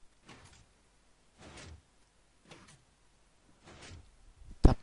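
Doors open and close in the Minecraft video game during an obstacle course, four short, evenly spaced sliding bursts followed by a louder sharp click at the end, with no talking.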